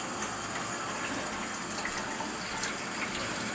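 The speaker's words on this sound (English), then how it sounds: "Turn it on, bleed the pressure off." Water runs from a Delta shower valve turned on to bleed off pressure, a steady rushing flow that stays constant and fairly quiet from start to finish.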